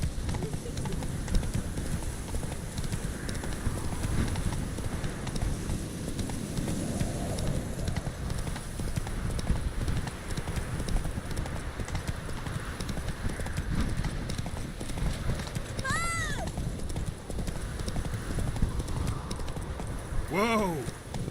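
Hoofbeats of the horse Roach galloping in The Witcher 3, a steady clip-clop rhythm running throughout, with a voice speaking over parts of it and a couple of brief higher calls near the end.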